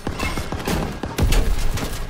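Rapid gunfire rattles in Call of Duty: WWII multiplayer, a loud, dense burst of repeated shots with heavy low thumps, continuous over a couple of seconds with no pause.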